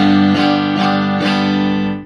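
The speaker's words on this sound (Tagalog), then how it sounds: "Bridge pickup, ito po yung tunog." Electric guitar played through the bridge pickup, three strummed chords ringing out in a steady rhythm, bright and sustained, close and loud, fading at the end.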